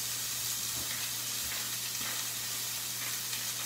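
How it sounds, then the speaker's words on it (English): Meat searing in a very hot pan during holiday dinner cooking gives a steady, close sizzle and frying hiss that runs unbroken throughout, with a low constant hum beneath it. "we're going to sear it in this really nice hot pan"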